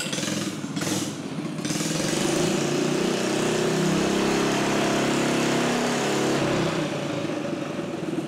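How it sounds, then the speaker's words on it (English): A small engine coupled to a BLDC motor dynamometer is started up, a short cranking burst giving way to a loud, steady, buzzing run that stays close and continuous. "So I'll disconnect them now and start up the engine and show you what it's like."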